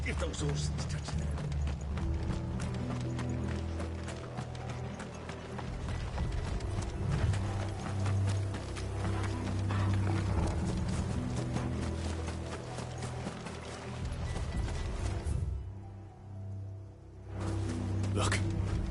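Horse hooves clip-clop in the Final Fantasy XVI video game, a steady rhythmic clatter of several horses under spoken dialogue and low music, briefly dropping away near the end.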